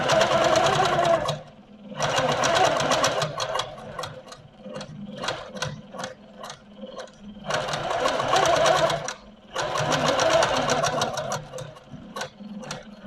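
An Amara ST sewing machine stitches steadily in long, fast runs, its rapid needle rattle stopping briefly between bursts and then starting again, loud and close.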